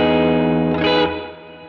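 A sustained electric guitar chord rings out through a Meris Mercury X reverb pedal at a medium setting, with a moderate reverb tail, a brief swell of brighter tone rising midway before it slowly decays.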